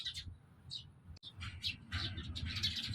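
Several birds chirp and tweet in short bright bursts, close and overlapping, under a beach arch with steady low wind and surf-like rumble beneath.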